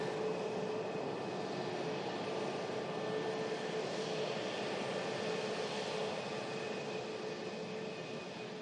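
An airplane passes at a distance, a steady broad engine roar with a faint tonal whine that holds at an even level throughout, with no voices.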